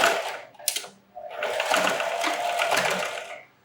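A sewing machine stitches elastic onto a surgical wrap mask in two bursts, a brief whir and then a longer steady mechanical hum of stitching, close and loud, with no talking.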